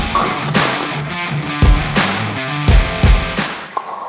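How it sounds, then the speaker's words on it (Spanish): Echoing din of a bowling alley inside a shopping centre: rolling balls, sharp crashes of pins and a noisy indoor background, fairly loud throughout. "Ese es el sonido de bolera típico."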